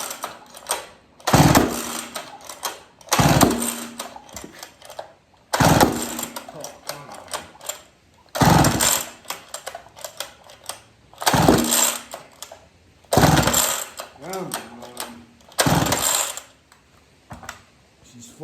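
A McCulloch 440 chainsaw gets about seven hard pull-start attempts, each a burst of ratcheting cranking separated by pauses, with the engine failing to catch. Someone talks in between.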